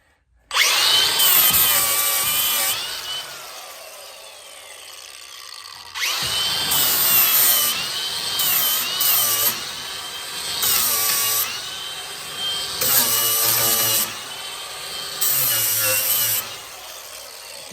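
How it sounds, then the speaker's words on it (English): Flap wheel on a power grinder scrubbing undercoating off the toe board of a 1967 Pontiac Firebird, loud close-up whine in long sustained passes with short breaks where it spins down. "Get that undercoating in your flap wheel, and it's so long for the flap wheel."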